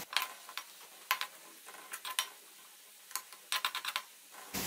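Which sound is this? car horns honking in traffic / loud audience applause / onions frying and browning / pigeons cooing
onions frying and browning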